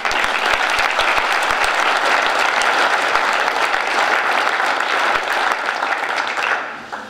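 An indoor audience at a community information evening gives sustained, dense applause that holds steady for several seconds, then begins to taper off at the end.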